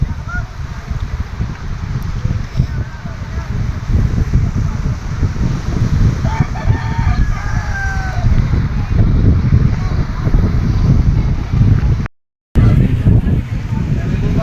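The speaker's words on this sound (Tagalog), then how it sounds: "Ang lakas ng hangin" Loud, steady wind on Fortune Island buffets the microphone with a constant low rumble throughout, briefly cutting out near the end.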